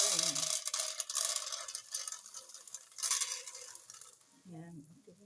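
Popcorn cooks in a pan with a faint, hissing sizzle and scraping stirs; soft bursts of rustling swell and fade, with a low voice briefly audible at the end.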